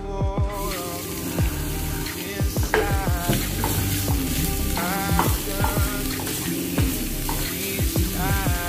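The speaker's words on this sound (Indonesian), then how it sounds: "kita panaskan wajan lagi dan kita tumis bawang merah dan bawang putih" Loud steady sizzling of shallots and garlic frying in a hot wok, with intermittent scraping and clanking of a utensil stirring throughout.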